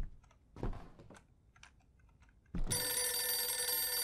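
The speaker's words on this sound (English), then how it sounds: "There's a phone calling." A telephone in the horror video game Visage begins ringing after a few faint clicks, then rings loud and steady without pause.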